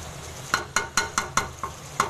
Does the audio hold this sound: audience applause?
no